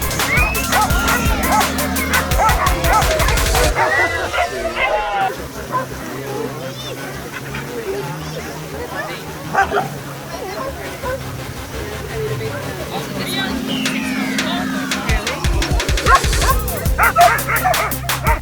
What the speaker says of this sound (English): There's over 600 dogs here that visitors and volunteers can play with.